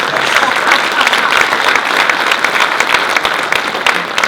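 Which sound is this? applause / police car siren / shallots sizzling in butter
applause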